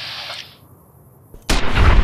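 Rifle gunshot in Fallout New Vegas: a sudden loud, close broadband crack and boom after a quiet lull, with the blast ringing out and rumbling through the remaining moment.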